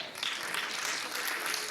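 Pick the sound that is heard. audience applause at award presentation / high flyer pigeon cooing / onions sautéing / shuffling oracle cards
audience applause at award presentation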